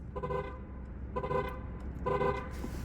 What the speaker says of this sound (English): It gives you a little chirp instead of the full-blown horn, so you can alert the pedestrians when you're sneaking around in EV mode